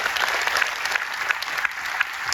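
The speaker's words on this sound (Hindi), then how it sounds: "उनके लिए एक बार ताली बजा सकते हैं अपन?" Audience in a meeting hall clapping together, a steady dense patter of applause close by with no speech over it.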